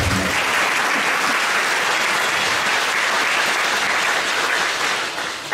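A church congregation applauding, loud dense clapping from many hands that fills the room steadily and fades slightly at the end.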